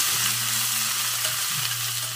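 Dal and coriander tempering sizzle steadily in hot oil in a pan, a continuous crackling fry with soft low hum underneath and no talking, heard close and even throughout.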